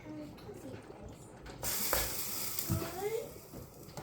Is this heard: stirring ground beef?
yes